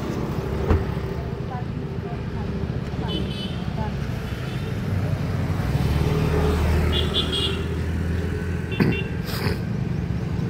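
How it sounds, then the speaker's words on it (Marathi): Cars and motorbikes move and idle on a road outside a police station in Nagar where vehicles are being parked in a new pay-and-park zone, with a steady traffic rumble, a few brief horn-like tones and background voices. "लोक आता पे अँड पार्कमध्ये गाड्या लावत आहेत."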